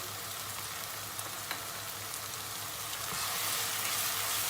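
Sauce for spaghetti stirred in a pan on the stove, seasoned with chili flakes, black pepper and salt, giving a steady close sizzle and frying hiss that swells a little louder toward the end, with no talk.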